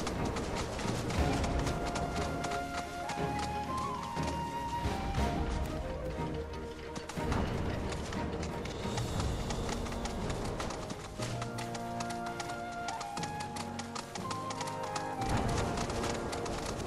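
A chocobo runs in Final Fantasy 7 Rebirth, with quick, steady clip-clop footfalls continuing throughout under game music.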